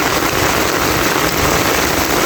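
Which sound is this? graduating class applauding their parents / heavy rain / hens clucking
heavy rain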